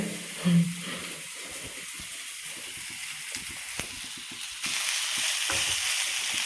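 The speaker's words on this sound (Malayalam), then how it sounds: "ഈ എണ്ണയിലേക്ക് തന്നെ നമുക്ക് ബാക്കി ഉള്ളി ഒന്ന് വഴറ്റാൻ വേണ്ടിയിട്ട് വെക്കാം" Onions fry in hot oil while being stirred for a prawn biryani, giving a continuous close sizzle with soft scraping strokes and a slight rise in hiss partway through.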